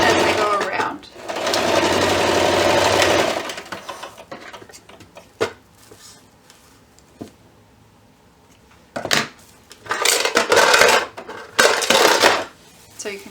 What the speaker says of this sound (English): So I just kind of lay it in my machine and stitch around, making it flat as I go around.